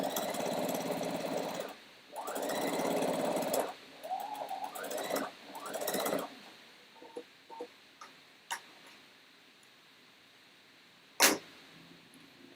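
A sewing machine stitches fabric edges together in a few loud whirring bursts, each lasting a second or two, followed by scattered small clicks and ticks as it stops, with a sharp knock near the end.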